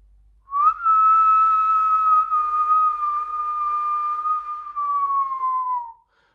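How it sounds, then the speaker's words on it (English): A single long whistled note held steadily for several seconds, drifting slightly lower in pitch before it stops; clear and close with no other sounds. "that's when we want to start the whistling"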